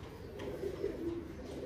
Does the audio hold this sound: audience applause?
no